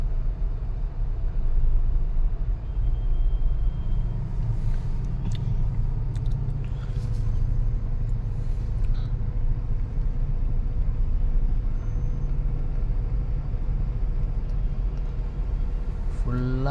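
Steady road traffic in a jam near Hosur: a continuous low rumble of idling and creeping vehicles with faint horn-like tones and clatter, moderately loud and unbroken throughout.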